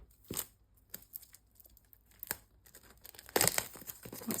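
A perforated package is cut and torn open, with scattered crinkles and snips of plastic building to a louder burst of tearing near the end, close up and without talk.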